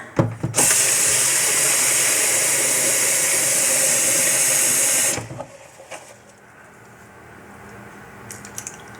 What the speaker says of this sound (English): I may just water them in from the bottom